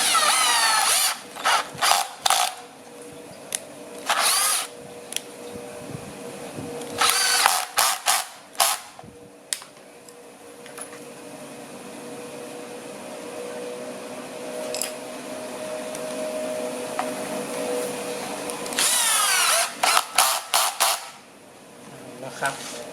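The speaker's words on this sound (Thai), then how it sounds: "ใช้ตะปูเกียวแบบนี้นะครับ ยิงเข้าไปได้เลยกับไม้ตัวนี้นะไม้นี้มันนิ่มอยู่แล้ว" A nail gun fires nails into soft wood while a folding wood-and-steel multipurpose table is built, giving sharp broadband bursts in separate clusters over a steady background hum, with a few isolated single shots between them.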